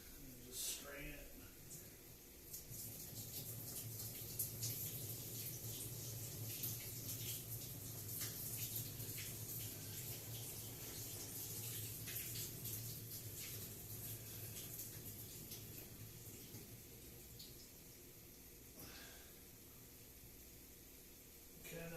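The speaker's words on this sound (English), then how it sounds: "Just get a good cold rinse on it." Cold tap water runs steadily into a sink to rinse taco ingredients, a continuous close hiss and splash with a voice talking over it now and then.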